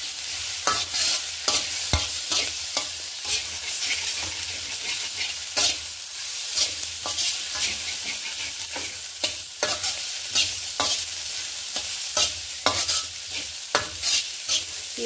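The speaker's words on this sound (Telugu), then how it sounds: "పచ్చివాసన పోయే వరకు వేయించుకున్నాము." Ginger garlic paste and vegetables fry in an iron pan for an egg fried rice dish, with a steady sizzle and frequent sharp scrapes and clinks of a stirring spoon, close and continuous, with no talking.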